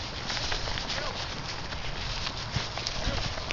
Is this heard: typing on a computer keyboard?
no